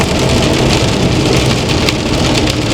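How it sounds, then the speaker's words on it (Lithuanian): Heavy rain in foggy weather, heard on the road while transporting motorbikes through Austria, makes a dense, steady hiss and patter of drops striking a surface, loud and unbroken for the whole stretch. "Ir rūkas, lietus."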